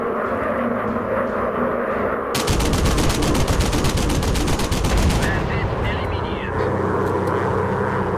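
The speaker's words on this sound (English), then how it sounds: "Fine, I'm just gonna use my machine gun then." In the VR game Warplanes: WW1 Fighters, a WW1 fighter plane's machine gun fires a long rapid burst over the steady drone of the aircraft engine, loud and close, with game sound continuing after the firing stops.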